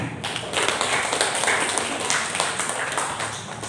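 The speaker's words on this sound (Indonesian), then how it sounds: "Tepuk tangan." An audience at a school student-council leadership session claps hands in a dense, steady burst of applause lasting several seconds, close and continuous with no talk over it.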